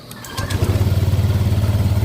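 A Honda Click 150 scooter engine catches after a brief crank and settles into a close, loud, pulsing idle following ECU work.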